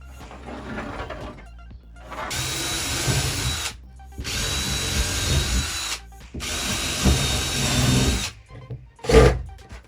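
A power drill drives screws into wood during a small workshop remodel, in three long, loud whirring bursts separated by short pauses, then a brief final spurt near the end.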